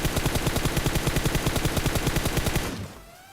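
Rapid automatic gunfire from a PUBG match on the Erangel map: a loud, steady burst of about two dozen evenly spaced shots lasting over two seconds, then a fading tail and near silence.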